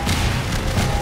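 Dense, rumbling explosions from carpet bombing in Half-Life 2, packed together in a steady low roar with no break.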